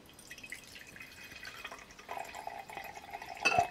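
About 100 milliliters of film developer poured into a container in a home kitchen: quiet drips at first, then a soft steady trickle, ending in a brief louder splash.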